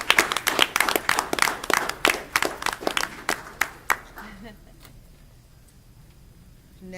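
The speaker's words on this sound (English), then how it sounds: "let's give the Ram Nation Virtual Academy another round of applause" A small audience at a Trotwood-Madison City Schools work session claps for the Ram Nation Virtual Academy, a few dozen sparse, distinct hand claps over about four seconds that thin out and stop, leaving a quiet room.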